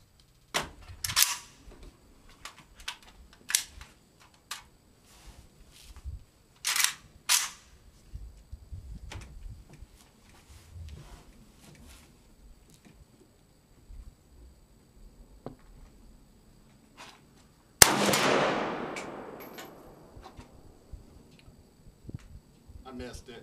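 Gunshots from an AK rifle fired at a bowling ball outdoors: a cluster of sharp, loud reports in the first several seconds, then a single heavy blast with a long ringing decay near the end, with quiet gaps and faint talk between.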